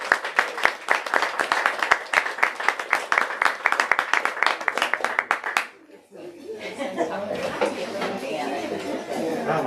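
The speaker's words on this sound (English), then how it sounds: "let's give one more round of applause." An audience at an author's book reading gives a round of brisk, close applause that fades after several seconds into a murmur of chatter and light laughter.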